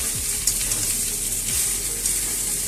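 Potatoes for a yam and prawn curry being stirred while frying in spiced oil in a pan, a loud steady sizzle with a few spatula scrapes, close and continuous without talk.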